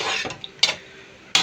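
Potatoes and carrots drop into a pan of spicy chicken curry, making a few sharp clatters and scrapes against the pan over a soft background sizzle, with no talking.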